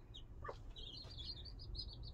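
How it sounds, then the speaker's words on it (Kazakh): Chicks chirp faintly, giving a string of high, thin peeps in quick succession over a quiet, low background rumble. "Балапандар жинап алды өзі."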